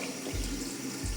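A household faucet runs at its original pressure, not yet boosted by a pressurizer. A steady, close, hissing stream of water pours out with no pause and no voices.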